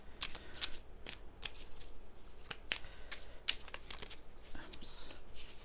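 Tarot cards being shuffled by hand, a rapid run of crisp riffling and slapping bursts spread over several seconds, close and fairly quiet, with no talking.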